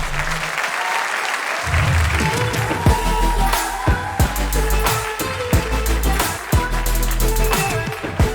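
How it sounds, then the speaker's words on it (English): Loud, sustained applause from an audience at a Samsung S23 series smartphone launch held aboard a boat, with dense clapping throughout, repeated heavy bass thumps of event music pulsing beneath it, and some scattered voices. "can we have a thunderous round of applause, please?"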